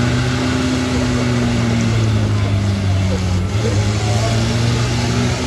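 A rally car's turbo whistles and sucks air over a steady, loud engine drone at a motorsport event, with crowd noise and people talking throughout.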